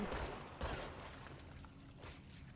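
Gunfire in the video game Control, a few sharp shots near the start followed by quieter rattling bursts, faint overall.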